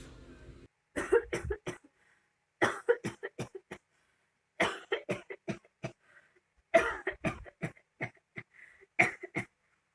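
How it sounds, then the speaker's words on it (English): Repeated fits of harsh coughing, several bursts of rapid hacking coughs separated by short silences, close and fairly loud. "How long have you had that cough?"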